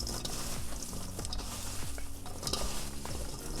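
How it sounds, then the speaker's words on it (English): Apples being tossed with sugar, cinnamon and cornstarch in a bowl: a continuous, close scraping and stirring with soft knocks of utensil against dish, steady throughout with no voices. "I'm just gonna go ahead and toss these together. Mix it really well."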